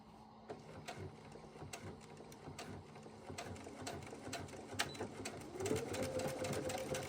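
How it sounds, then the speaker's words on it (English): A sewing machine stitches a seam on wide leg pants, a steady close whirring run that grows slightly louder toward the end, with no talking over it. "we're just going to sew to that purple marking right there"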